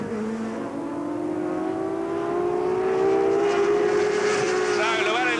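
Superstock motorcycles race at Thruxton circuit in a 2000 British Superbikes round 3 support race, with Chris Vermeulen leading. A loud, continuous engine howl holds steady, its pitch climbing gradually as the bikes pass close by.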